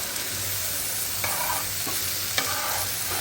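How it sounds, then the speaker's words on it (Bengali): Spices frying and being stirred in a cooking pot before stalk vegetables go in, a constant close sizzle broken by a few sharp scrapes of the spoon against the metal. "এটা আমি মশলাটাকে কষাই নিব"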